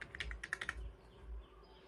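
Quick clattering keystrokes on a computer keyboard while a captcha code is typed, a short burst of about eight close taps followed by a pause.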